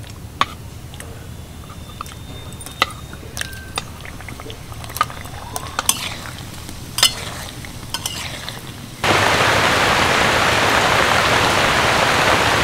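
Gaja (madan bhaja) pastries deep frying in oil, first as scattered crackles and pops over a low bubbling bed, then suddenly swelling into a loud, steady, hissing sizzle; no voices.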